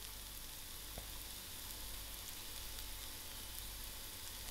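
Carrots fry with Chinese five-spice in a pan for vegetarian spring roll filling, a faint, even hiss of sizzling that holds steady throughout with one small click and no speech.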